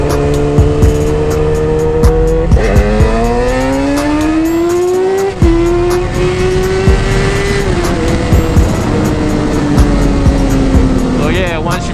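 Motorcycle engine revving loud and close during a wheelie, the pitch rising and falling under smooth throttle in long sustained pulls with a brief dip midway, while someone talks over it.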